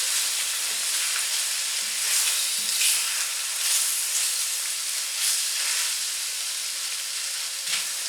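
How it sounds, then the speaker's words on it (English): Tomato paste with onion, garlic and thyme fries in a pan, giving a steady, close sizzling hiss broken by faint scrapes as it is stirred throughout. "Get all that tomato paste mixed in here."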